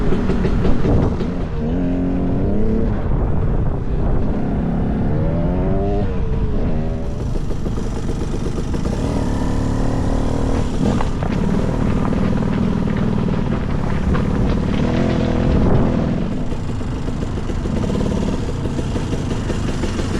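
A freshly rebuilt KTM 300 two-stroke dirt bike runs outdoors, its engine a loud, steady close drone with rising and falling revs and throttle blips, no voices over it.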